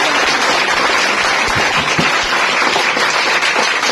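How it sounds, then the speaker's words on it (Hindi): An audience giving loud applause to welcome the Bihar Board 10th topper at an event, a dense, continuous roar of clapping that fills the whole stretch with no talking. "इसके एक बार जोरदार ताली से स्वागत होनी चाहिए।"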